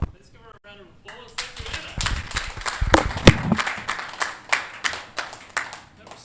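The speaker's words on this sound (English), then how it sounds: "Let's give her a round of applause." An audience at a Golang programming meetup in Wellington breaks into applause that builds from scattered claps into a loud burst, then thins to a few rhythmic claps.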